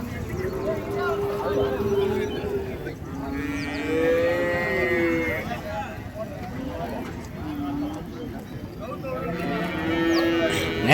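Cattle moo repeatedly at the large Matrapalli open cow market in Tirupattur district, several long, drawn-out lows rising over a busy crowd murmur, with people talking throughout.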